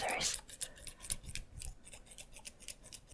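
A pair of scissors snipping near the listener in a quick, steady series of crisp metallic cuts, with some soft rubbing between the snips.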